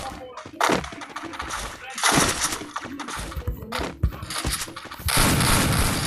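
Rapid gunfire bursts in the Free Fire battle game, loud and close, with clattering shots, crashes and shattering effects layered over one another and no pauses longer than a moment.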